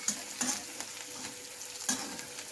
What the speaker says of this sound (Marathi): आता आपली फोडणी चांगली तळत आलेली आहे